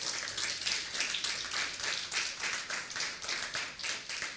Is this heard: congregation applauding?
yes